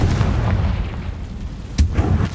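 Bombarda and Confringo spell blasts in Hogwarts Legacy, a loud continuous booming rumble with a sharp burst near the end.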